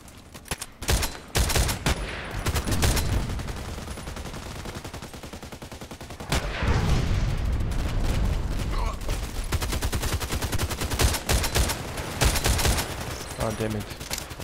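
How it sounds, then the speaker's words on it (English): An SVD-S sniper rifle fires in a shooter game as a series of sharp, loud shots, some in quick clusters and others spaced apart, over continuous game background noise. "Damn it, I was shooting at the stone"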